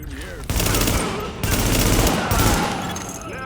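Loud, dense bursts of automatic gunfire and overlapping shots from the PC shooter Tom Clancy's The Division (2016), coming in heavy waves with brief dips between, amid game sound effects.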